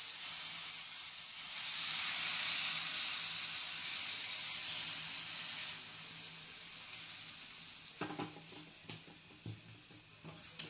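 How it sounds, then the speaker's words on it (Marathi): Boiling water poured slowly into roasted semolina (rava) for ghee sheera makes a steady loud steaming hiss and sizzle, which then breaks into several sharp spattering bursts toward the end. "आता आपण ते पाणी आपण उकळायला ठेवलेलं ते पाणी आपण आता रव्यात हळूहळू ओतणार आहोत"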